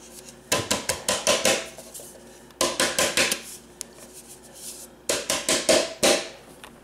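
A cake pan being shaken back and forth to coat it with flour for a cream cheese pound cake: three bursts of quick metallic rattling taps, each a run of five or six clatters, close and fairly loud.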